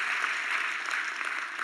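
A church congregation applauds, a continuous dense clapping sound, moderately loud and steady with no speech over it.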